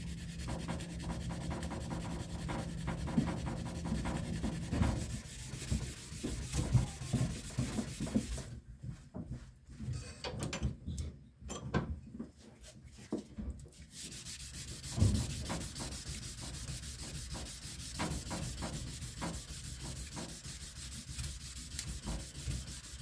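A sanding block rubs back and forth steadily over a firearm's metal surface, close and continuous, with a brief quieter pause midway, as the gun is block sanded and polished by hand.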